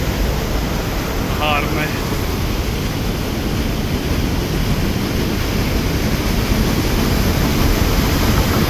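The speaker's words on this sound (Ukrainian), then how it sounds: "Такий поток води." A strong flow of water rushes beneath a metal grate, a loud, dense, steady roar with wind-like noise that continues unbroken from start to finish.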